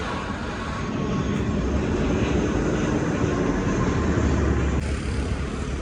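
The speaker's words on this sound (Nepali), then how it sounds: "प्लेन गइरहेछ" An airplane passes overhead with a loud, steady engine roar that fills the whole stretch, heard outdoors along a ride route with no voices.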